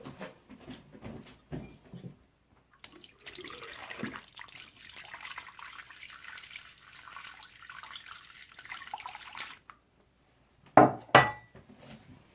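Hot water poured down a partly clogged bathroom sink drain after a Liquid-Plumr Urgent Clear treatment, a steady splashing rush lasting several seconds, followed by a few sharp clinks and clatters near the end.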